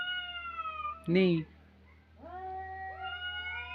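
Cats call back and forth during courtship with drawn-out, wavering meows, broken by one short, loud, harsh cry before the long meows resume close by. A person speaks briefly.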